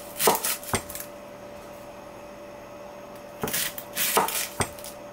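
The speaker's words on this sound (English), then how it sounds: "I will cut 1 medium-sized onion." Knife chopping a medium onion on a board in a home kitchen: two short bursts of three or four crisp, close cuts separated by a quiet pause, with a faint steady appliance hum underneath.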